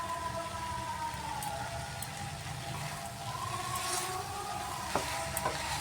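Vegetables with bottle gourd, cauliflower and green chili are stirred in a pan, a quiet continuous sizzle with soft scraping and a couple of light clinks near the end.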